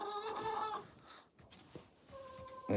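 Purebred Rhode Island Red hens, young layers about 25 weeks old, cluck and squawk up close in uneven bursts. A loud stretch opens the clip, quieter calls follow, and a sharper cluck comes at the end.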